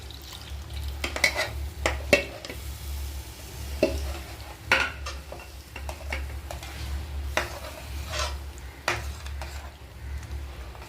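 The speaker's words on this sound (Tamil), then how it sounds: "இப்போது பால் காய்ச்சி வச்சுருக்குதை நம்ம சேர்க்க போகிறோம்." Boiled milk poured into a pot of custard apple payasam and stirred with a spoon, giving soft scraping and clinking strokes at an uneven rhythm against a low steady hum, close and moderately quiet.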